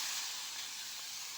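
Thalipeeth dough pressed onto an oiled tawa sizzles with a steady, soft, high hiss that holds evenly throughout, close by and with no voices.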